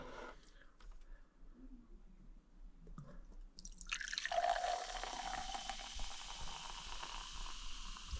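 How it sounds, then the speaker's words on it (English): Hank's root beer is poured from a bottle into a glass, a quiet start giving way to a steady fizzing, foaming hiss that swells and carries on to the end, close and fairly soft. "Let's do the pour."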